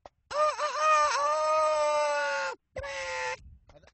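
A voice imitating a rooster's crow: a long, strained, rising-and-falling call, then a shorter second cry after a brief pause.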